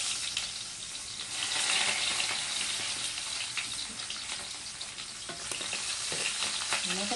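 Garlic and onion sautéing in a pan, a loud, dense, continuous sizzle with occasional stirring scrapes, close up and without talk.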